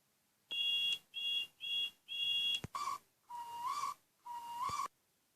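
Seven short steam engine whistle blasts sound in sequence, four high-pitched toots followed by three lower, wavering ones, each clear and fairly close.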